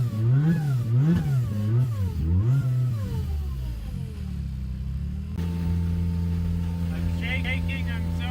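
An old project car's engine revs as the driver sets off, a loud mid-pitched rumble rising and falling in repeated surges, then settling into a steady drone, with voices talking over it.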